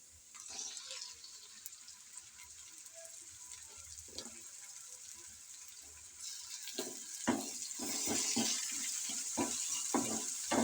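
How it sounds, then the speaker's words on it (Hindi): Onions and tomatoes fry in a pan for baingan bharta, a steady close sizzle with wet crackling that grows denser and louder in the second half, joined by scattered spoon or spatula knocks. "इसको हम अच्छा सा फ्राई करेंगे 1 से 2 मिनट इसके साथ।"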